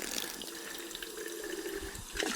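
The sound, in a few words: water running from a tap to fill a container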